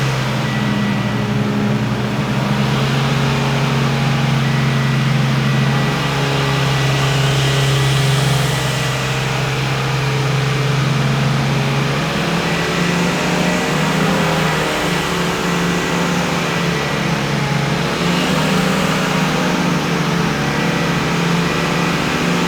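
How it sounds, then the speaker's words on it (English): Mitsubishi EVO X engine pulling hard at full throttle during a tune, a loud continuous rising drone that climbs in pitch, drops back and climbs again, heard up close with no talk. "then we're going to start doing full throttle pulls after that"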